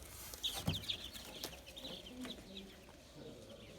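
Baby chicks chirp and peep in quick, high bursts inside a brooder made from an old refrigerator, some nearer and some softer, with a few faint thumps and rustles in the background.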